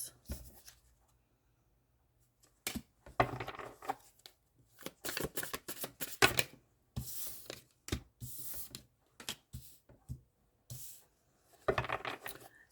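Tarot cards shuffled by hand in bursts of riffling and slapping, with quiet pauses between handfuls, close and fairly soft, no talking.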